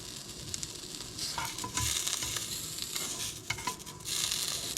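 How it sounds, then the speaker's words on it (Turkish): Butter sizzling and frying in a pan for cooking lion's mane mushrooms, a steady crackle with occasional louder spits and a utensil stirring, close by and without talk. "Tereyağını da kızartacağız."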